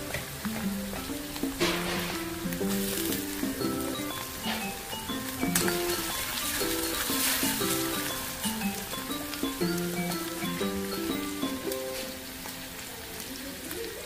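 Tomatoes fry in a pan with browned onion, crackling mustard seeds and garlic, making a steady, dense rain-like sizzle that lasts throughout, with soft melodic music playing underneath.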